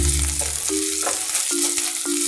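Chopped onions fry in a pan for a Bengali coriander chicken dish, a steady bright sizzle with a few stirring scrapes and clinks, close and continuous.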